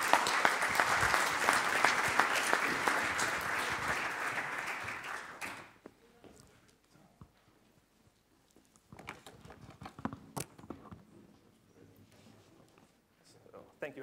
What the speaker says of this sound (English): So please give him a big hand of applause and welcome him.